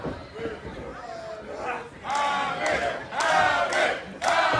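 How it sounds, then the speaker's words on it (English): Wrestling fans at Southern Brewing in Athens, Georgia, shout and cheer in loud bursts that rise and fall during an indoor independent wrestling match, with a commentator's voice nearby. "you can hear all the fans here in attendance at Southern Brewing here in Athens, Georgia, cheering for the newcomer Trey Havoc"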